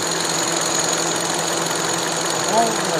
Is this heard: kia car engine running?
yes